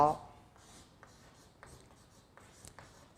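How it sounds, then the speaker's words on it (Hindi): Chalk or marker writing on a board during a physics lesson gives soft, brief scratching strokes in short bursts, faint and close, alongside a voice speaking. "तो यहाँ लिखते हैं"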